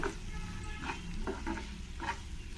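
Sprouted fenugreek fries in a hot oil tempering, giving a close, continuous sizzle with a few soft stirring scrapes.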